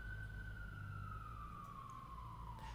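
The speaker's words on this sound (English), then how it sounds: "And cue ambulance." An ambulance siren passes outside, a long, slowly falling wail heard at a distance over low background rumble, with no talking.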